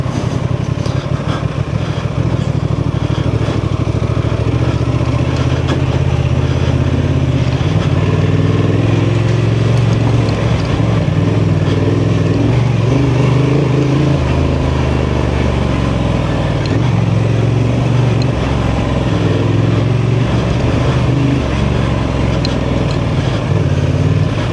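Honda Transalp 750 adventure motorcycle ridden off road in second gear at an OHV trail park, its engine droning loud and steady throughout with rough rumbling from the terrain, no voices over it.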